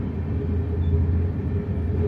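The Sealdah-Bikaner Duronto Express (train 12259) runs on a nonstop stretch, giving a steady, close, low rumble with a constant mechanical drone and no voices.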